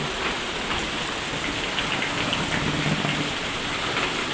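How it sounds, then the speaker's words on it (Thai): Heavy, wind-driven rain pours down steadily in a dense, hissing wash, drumming on surfaces nearby without pause. "ฝนตกสาดเปียกหมดเลยครับ"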